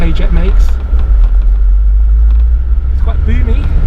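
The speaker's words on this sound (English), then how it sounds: "I think it's got that lovely noise that K-Jet makes." A 1980s Audi Quattro with K-Jet fuel injection drives along, its engine a steady, boomy rumble inside the cabin with road noise, while people talk over it.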